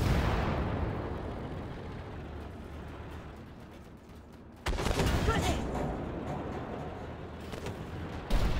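Tank cannon fire in the Armored Warfare tank game, with a T-80, an XM1 and a Challenger in the battle, bursting in loud and sudden over a steady engine rumble, with a second sharp report near the end.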